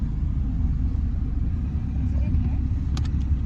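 Steady low engine and road rumble from inside a ride-hailing car creeping through a narrow alleyway in Porto, Portugal, continuous and close throughout, with a few faint higher ticks near the end.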